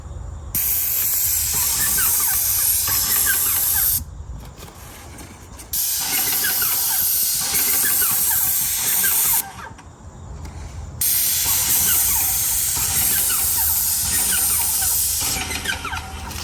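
A paint sprayer hisses loudly in long bursts of several seconds, separated by short quieter pauses, close to the microphone.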